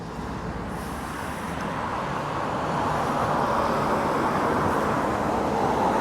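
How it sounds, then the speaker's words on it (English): A car drives toward the listener along a road at night in Russia. Its steady engine and tyre roar builds gradually louder and stays close and continuous with no voices. "There's a car coming."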